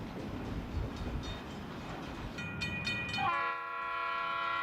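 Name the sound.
Union Pacific eastbound train at Yermo Yard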